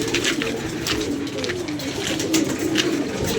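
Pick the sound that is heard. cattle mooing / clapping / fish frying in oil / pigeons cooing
pigeons cooing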